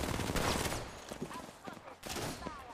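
Gunfire rattles at the player in a video game, bursts of rapid shots crackling amid busy game noise, fairly faint overall with brief talk.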